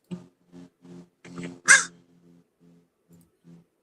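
Crows cawing outdoors on harvested fields in late autumn: a rhythmic series of about ten harsh caws, mostly moderate with one louder, closer call midway, heard alone without talk.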